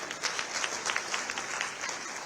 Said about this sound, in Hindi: आप सभी तालियां बजाएं हमारे इन बच्चों के लिए